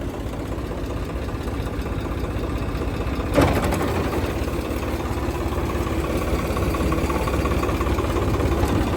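A tractor's heavy diesel engine chugs steadily at a constant idle-like rhythm, loud and close, with a brief rattling clank near the start.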